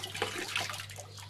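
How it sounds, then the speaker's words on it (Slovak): Rinse water pours out of a home-brew beer bottle being cleaned, a steady close splashing gush lasting the whole moment over a low hum. "vodu vylejeme"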